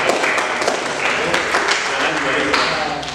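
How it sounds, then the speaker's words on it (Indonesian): Applause from students in a classroom after a group presentation, dense clapping running throughout with a voice speaking over it. "Ini tepuk tangan"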